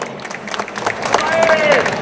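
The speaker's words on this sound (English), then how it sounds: "Let's give a round of applause." Applause at a tourism event in Singapore as a memento is presented, steady clapping from an audience with voices and a whistle-like tone mixed in, growing slightly louder.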